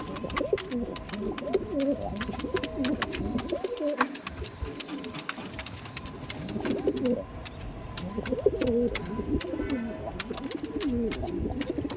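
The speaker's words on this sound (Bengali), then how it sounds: "পায়রাটা দেখুন, দেখছেন?" Andhra Madras pigeons in a loft at Koikhali coo steadily and close by, their soft throaty calls overlapping in a continuous murmur with no voices.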